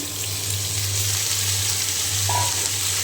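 Cauliflower stems and radish frying in a pan with cumin, garlic, onion and green chilli, a dense steady hissing sizzle over a low hum, continuous and close, without speech.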